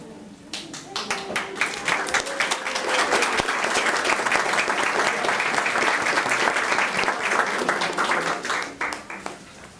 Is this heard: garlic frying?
no